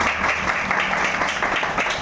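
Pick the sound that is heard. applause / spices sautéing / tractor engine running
applause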